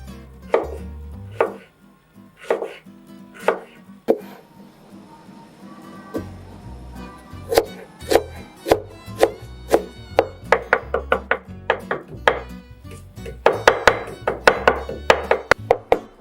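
Ginger is chopped with a knife on a cutting board in a long run of crisp, close thuds, starting in spaced strokes, pausing, then speeding into a rapid, busy burst near the end.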